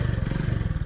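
A motorcycle engine putters steadily at close range, a low pulsing idle with even, rapid beats for under a second, heard alone without voices.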